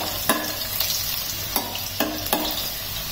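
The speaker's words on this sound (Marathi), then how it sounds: "आता या लसणाच्या पाकळ्यात 5-6 पाकळ्या आपण ठेचून घेतल्या होत्या, त्यावर घालूया आपण. तर थोडस परतून घेऊया." Five or six crushed garlic cloves sauté in hot oil with a soft, continuous sizzle. A spatula taps the pan sharply several times at uneven intervals, close by and fairly loud.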